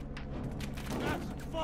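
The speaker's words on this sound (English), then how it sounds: "Here goes a fire bomb." A fire bomb explodes in the shooter game Battlefield Hardline, a brief burst of crackling, booming gunfire-like noise amid steady game background.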